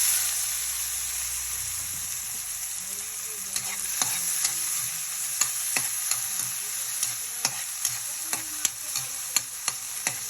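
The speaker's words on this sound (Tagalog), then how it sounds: "okay na yung ating ginisa. Nag-melt na kasi yung yung kamatis." Tomatoes sautéing in a pan for a Filipino mung bean dish, a steady sizzle with a quickening run of light utensil clicks and taps against the pan, close and without speech.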